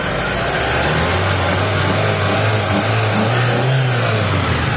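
A Mitsubishi Lancer's engine, long unused, runs steadily at close range, a low continuous hum with slight rises in pitch, loud and constant throughout.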